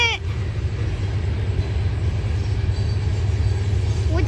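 A Norfolk Southern DPU locomotive at the end of a slow CPKC freight train rumbles past nearby as a steady low drone with rolling clatter. A horn-like tone sounds faintly at the very start and again at the very end.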